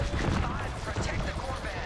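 Starfighter cannon fire in Star Wars: Squadrons, a dense, continuous rumble of blasts and booms in the middle of a space battle, fairly loud.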